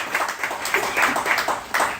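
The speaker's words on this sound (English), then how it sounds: "that deserves a round of applause as well" An audience at a campaign kick-off event in Nassau breaks into applause; brisk, dense clapping heard close and continuous through the brief stretch.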